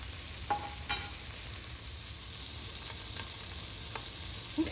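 Turkey sausage frying in a pot with a little grease, giving a steady, moderate sizzle throughout with a few faint pops and scrapes.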